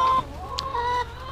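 Commercial chickens kept free-ranging indoors on a farm give a short burst of clucking, close and clear, with a sharp brief squawk in the middle.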